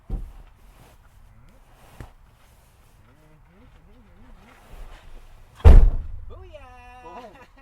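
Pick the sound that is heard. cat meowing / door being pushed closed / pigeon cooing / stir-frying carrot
door being pushed closed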